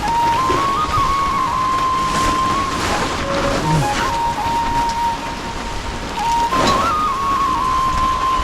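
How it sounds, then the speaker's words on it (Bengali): Heavy rain falls outside as a car is brought out, a steady broadband wash with a faint tonal whine running through it, continuous and fairly loud with no talking. "এই দেখো বৃষ্টির অবস্থাটা দেখা যাবে খুব বৃষ্টি বাইরে"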